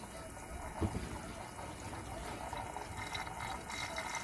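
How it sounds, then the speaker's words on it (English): A small water fountain pump gurgles and trickles water steadily, faint and close, with a soft splash near the start and no talk. "The pump's just picking up the water."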